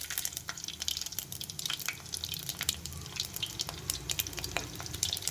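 Mustard seeds, cumin and garlic sputter in hot oil for a radish rasam tempering, a dense close sizzle with many tiny crackling pops and a low bubbling rumble throughout.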